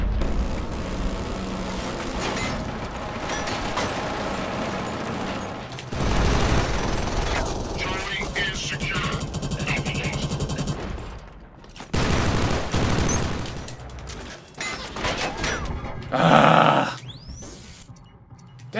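Rapid automatic gunfire and bursts of shooting from a Killzone Shadow Fall multiplayer match on the Factory map, loud and sustained with brief gaps between volleys and a sharp explosive burst near the end.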